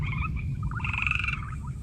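Rabbs' fringe-limbed tree frogs call in a forest, giving a chirping, warbling croak that rises into a brighter trill, steady and moderately loud over a low ambient rumble.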